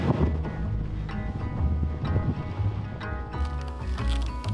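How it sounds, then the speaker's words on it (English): Strong gusty wind buffets and roars across the microphone aboard a sailboat in the Gulf of Mexico, with low rumbling and a faint sloshing of water around the hull. "That's quite windy still, huh?"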